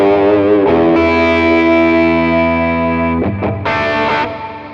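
Electric guitar through a Lekato TANK-G modeler with the gain raised, loud sustained overdriven chords ringing with a brief break and a fresh strum near the end, no voices.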